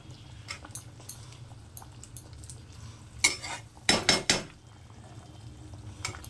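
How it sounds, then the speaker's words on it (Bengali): Chicken curry with water being stirred in a pan: soft scraping and sloshing under a faint simmer, with a cluster of sharp metallic clinks of a utensil against the pan in the middle and a few lighter taps. "এবার চিকেনটাকে খুব ভালো করে মিশিয়ে নেব"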